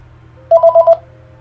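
A phone rings with a quick burst of four bright electronic tones, loud and close against a low background hum.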